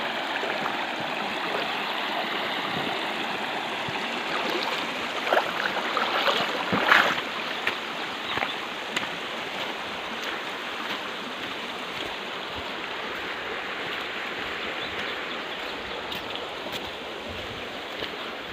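Clear stream water flows steadily through the wild forest of Namdapha National Park in Arunachal Pradesh, a soft continuous rushing with a few brief splashes around the middle and no voices.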